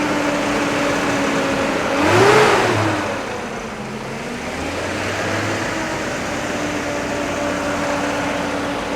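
An old Jeep Ahoo engine running after a long time sitting, a mid-pitched idle that swells into one loud rev, then settles back to a steady rumbling idle with a faint whine, no talk.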